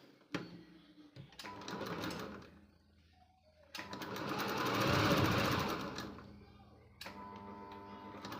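A sewing machine stitches tucks into blouse fabric, running in two steady whirring bursts with a brief pause between them and a short start at the end.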